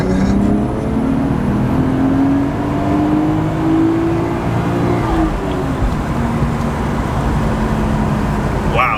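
A Toyota Chaser with a 1JZ-GTE engine pulls hard through long gears, its loud drone rising steadily in pitch, dropping at a shift and climbing again, heard from inside with road roar throughout.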